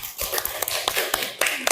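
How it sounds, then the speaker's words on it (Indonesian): Classroom applause from students, a short burst of brisk clapping with scattered sharp hand taps, fairly close and lively. "ya, tepuk tangan."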